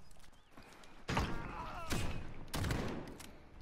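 Gunfire in Call of Duty Modern Warfare, several loud bursts of shots and thuds at intervals over low game background noise.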